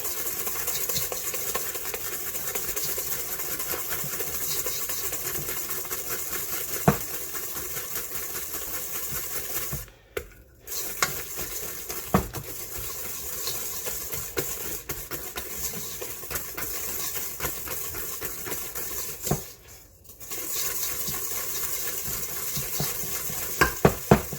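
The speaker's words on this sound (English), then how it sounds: "when you get tired of doing mixing one way, like this, then you just turn it and mix it back" Gluten-free oatmeal cranberry cookie dough is mixed by hand in a bowl, giving a steady, continuous scraping and squelching that stops briefly twice, with occasional sharp knocks and no speech.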